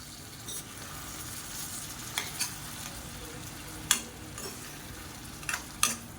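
Egg thokku being stirred in a pan, a soft steady sizzle with occasional sharp scraping clinks of the spoon against the pan, quiet and close with no talking.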